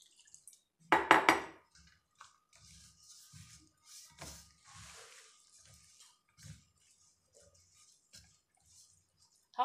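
Dough for Egyptian feteer meshaltet is kneaded by hand, making soft, sticky squelches and pats at irregular intervals, with one louder clattering knock early on and no speech.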